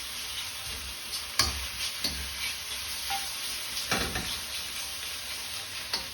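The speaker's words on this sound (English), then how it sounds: "Just stir fry it nicely." King prawn kwai diew stir-fried in a wok, with scraping stirs and occasional sharp clatters of the utensil over a soft, steady sizzle, fairly quiet and with no talking.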